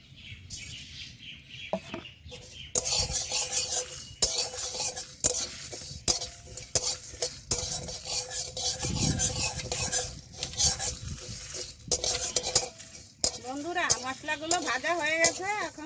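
Fennel seeds are stirred in a metal pan with a spatula, giving repeated scraping and clinking strokes, with soft voices and brief bird-like chirps audible in the background.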